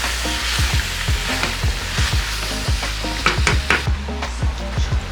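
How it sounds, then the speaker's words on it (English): Onions, garlic, shrimp and kala fish stirred and sizzling in a pot for a Hawaiian curry, a steady frying hiss with repeated scraping stir strokes close up, no talk. "Then add the onions, the garlic, the kala, and the shrimp. Give it a quick stir and let it cook up."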